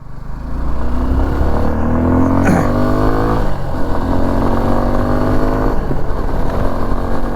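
A Suzuki V-Strom 250 SX motorcycle engine revs loud and close, its pitch climbing and settling across several throttle blips, with a steady mechanical drone underneath and no talking.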